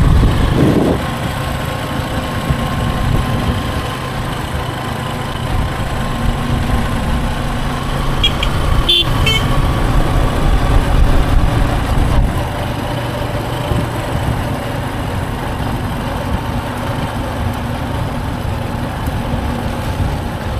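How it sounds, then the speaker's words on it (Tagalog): A motorcycle engine running while being ridden, a loud, close, steady mid-pitched drone with a constant rumble and no speech throughout the ride. "Puntahan natin, motor tayo."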